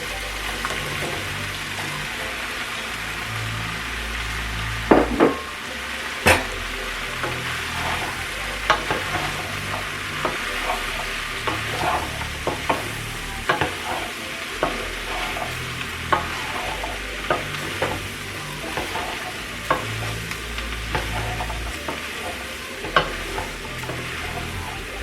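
Zucchini and yellow squash frying in a pan while being stirred, a steady close sizzle broken by frequent scraping and clinking of the spoon against the pan.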